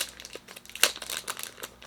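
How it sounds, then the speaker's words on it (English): A small plastic bag crinkles and rustles up close as an item is pulled out, a quick run of crisp crackles with one sharper crunch midway, no voices. "take it out of the little plastic bag"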